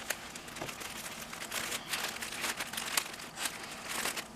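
Tissue paper rustles and crinkles while a craft subscription box is unpacked, close and fairly loud, with irregular bursts of crumpling and no talking.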